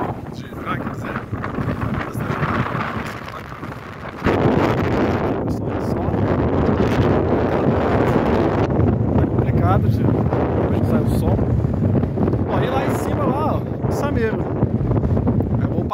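Strong, cold wind on a hilltop at Pico do Crasto, Braga, Portugal buffets the microphone with a steady rumbling roar, loud and continuous, while people talk underneath.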